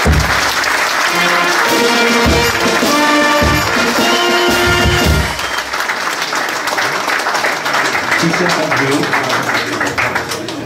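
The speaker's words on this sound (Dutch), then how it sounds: "Dames en heren, applaus voor Anja van der Heijden." Loud, sustained audience applause fills a carnival key-handover event in Nederweert, with music and crowd noise beneath, easing slightly in volume partway through.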